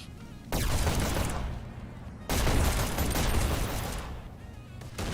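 Gunfire in a competitive first-person shooter match fills the clip with loud, dense bursts of rapid shots and booms, breaking off and resuming abruptly with no clear voices.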